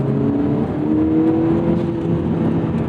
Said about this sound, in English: They do actually pipe in some fake engine noise through the speakers, since the engine is otherwise very quiet.